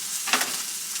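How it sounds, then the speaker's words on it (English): Pork sausage patties fry in a skillet with a steady, hissing sizzle, close and fairly loud, with a brief brighter burst of spattering early on before the sound cuts off abruptly. "I just throw them on a skillet and I cook them for about 10 minutes"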